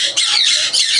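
A sun conure parrot at a bird market lets out a loud, harsh squawk, close and piercing, repeated in two quick bursts.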